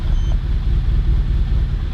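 Low, rumbling idle of a stroker car engine with a damaged throttle body, steady and close with a slight uneven pulse, no voices.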